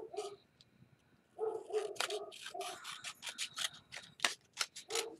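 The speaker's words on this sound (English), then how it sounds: "So let me cut these really quick." Scissors snip through card stock while a window card is cut, a run of short crisp cuts close by, with a barking dog in the background.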